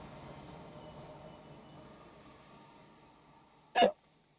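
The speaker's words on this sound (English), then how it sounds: "I had the weirdest hiccups." A single sharp hiccup from a person, loud and close, breaking in near the end after a stretch of quiet low background hum.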